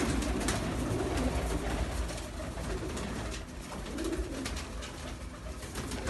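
A flock of pigeons gathered together coos and rustles continuously, the low rolling calls repeating under a busy wash of bird noise, with no talking.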